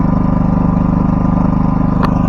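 A PowerMax generator engine idling low on its automatic idle setting, a loud, steady, even mechanical drone throughout with a brief faint click near the end.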